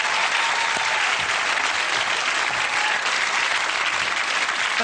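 A studio audience on a TV chat show bursts into loud, sustained applause, with dense clapping that stays even and close throughout, with no voices on top.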